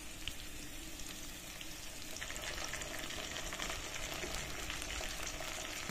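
Pieces of shankar fish fry in oil with salt and ginger paste, giving a soft, steady sizzle that thickens slightly partway through, heard alone without speech.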